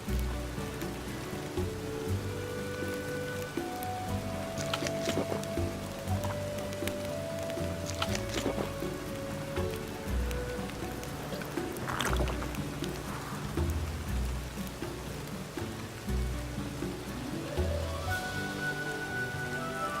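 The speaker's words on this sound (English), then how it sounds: "Rain again. Damn mages." Steady rain falling in the open world of The Witcher 3: Wild Hunt, a constant wash of patter with scattered droplet ticks and low ambient rumble, continuous throughout with no talk.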